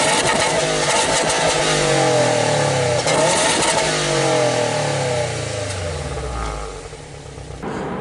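Subaru WRX STI with factory quad exhaust tips revving hard, a loud sustained engine note with rising and falling harmonic sweeps, close up, easing off toward the end.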